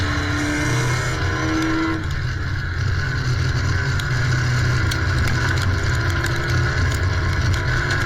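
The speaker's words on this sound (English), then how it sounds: "Really got that little motor ripping." Race car engines roar steadily through an endurance race at Cedar Lake Speedway, a loud continuous drone with a higher engine tone that drops away after the first couple of seconds.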